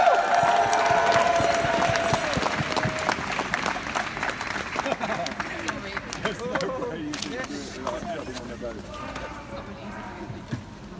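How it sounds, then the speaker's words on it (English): An audience at a gathering of women campaigning against deportation and detention applauds and cheers, a dense burst of clapping that gradually thins and fades while voices and crowd chatter carry through. "give a round of applause"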